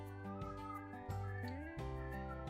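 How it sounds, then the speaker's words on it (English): Pet cats indoors give a few drawn-out, sliding meows, fairly close, over a steady tonal background hum. "my kitties are singing for me"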